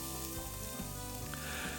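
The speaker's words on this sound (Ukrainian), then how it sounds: "Підсмажуємо цибулю кілька хвилинок" Finely chopped onion fries in a pan over medium-low heat after garlic and thyme for a saffron mushroom risotto, giving a steady soft sizzle with faint stirring scrapes, quiet and continuous without speech.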